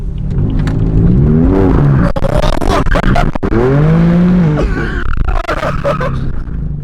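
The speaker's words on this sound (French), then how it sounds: "Là, on va faire un drift, les gars." BMW M4 engine roars loudly as the car drifts, pitch climbing and falling through two long revving sweeps with rough tire noise, close and dominant throughout.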